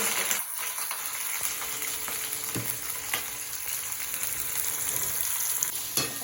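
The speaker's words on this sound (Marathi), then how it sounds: "हे आपण ना चांगलं भाजून घ्यायचं, एकदम गोल्डन कलर दिसतं" Onion and potato filling frying in oil, a continuous close sizzle broken by occasional scrapes and knocks of a spoon stirring the pan, no talk.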